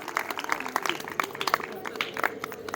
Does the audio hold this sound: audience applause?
yes